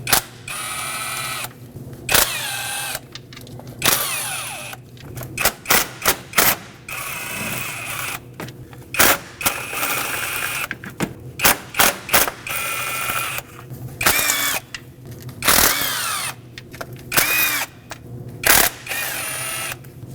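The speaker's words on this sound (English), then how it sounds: "Now we have a bunch of 10 millimeter headed bolts to remove to get the valve cover off." Ratchet work removing 10 mm valve cover bolts on a 2.5L four-cylinder Nissan Frontier, with repeated bursts of clicking and mechanical clatter separated by short pauses, close and fairly loud.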